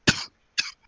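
A person coughs twice in quick succession, two short, sharp bursts close to the microphone separated by a brief silence.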